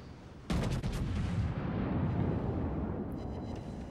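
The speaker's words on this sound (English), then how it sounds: "And we open fire." A Scharnhorst battleship in World of Warships fires its guns: one sudden, loud, booming salvo with a deep rumble that rolls on and slowly fades over several seconds.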